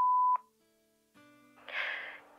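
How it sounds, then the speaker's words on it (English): A single loud voicemail beep, a steady electronic tone lasting about a third of a second at the very start, followed by quiet line hiss and then a faint musical background fading in. "Please leave a message after the tone."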